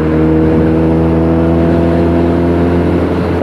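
A Benelli TNT300 motorcycle engine runs loud and close, its inline-four giving a smooth, steady tone held at constant revs with no break or talk.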